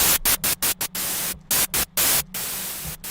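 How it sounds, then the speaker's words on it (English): Harsh white noise from an FL Studio 3x oscillator synthesizer hisses loudly, chopped into short rhythmic bursts with gaps, then holding as a steady wash near the end. "I'm just going to go into 3x oscillator and get some garbage noise"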